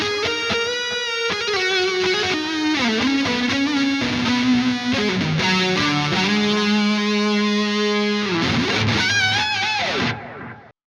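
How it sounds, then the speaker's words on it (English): An electric guitar runs through a pedalboard with Hall of Fame reverb and chorus engaged, playing a loud, gliding melodic phrase with lush, shimmering wash. The sound is steady and close, then the final notes decay and fade out near the end. "And then some reverb from the Hall of Fame and chorus."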